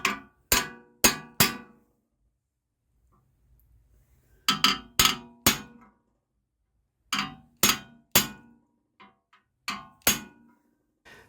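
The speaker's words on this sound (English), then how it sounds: "that was just a case of centre punching it" Sharp metallic hammer blows on a centre punch against a steel rivet in a motorcycle chain guard, struck in quick groups of three or four ringing clangs with pauses between, close and fairly loud with no talk.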